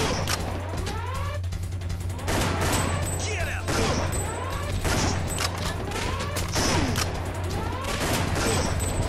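Gunfire in the Time Crisis shooting game rattles on continuously in rapid bursts, loud and dense, with clanks and impact noises mixed through the volleys.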